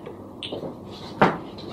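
A door being closed, heard as a single sharp thud with a brief clatter after some quieter handling sounds, all close by in an indoor room.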